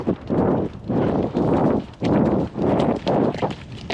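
Horse hooves clip-clopping in a steady rhythm of close, loud thuds repeating throughout, with no voices over them.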